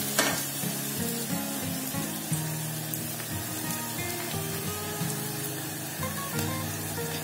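Onions sizzle and fry steadily in a pan, loud and close, with occasional scraping and clinking from stirring mixed into the continuous crackle and no voice over it.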